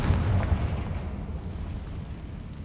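Confringo fire spell exploding in Hogwarts Legacy, a loud deep boom with a rumbling tail that slowly fades across a few seconds.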